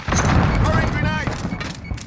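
A grenade blast in Black Ops Cold War multiplayer: a loud, continuous booming rumble with gunfire-like thuds that stays dense for about two seconds, while voices speak over it.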